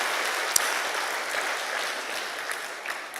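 A church congregation applauds to give glory to God at a Christian blessing-day service, a steady broadband wash of clapping that holds at an even level for about three seconds with no voices on top.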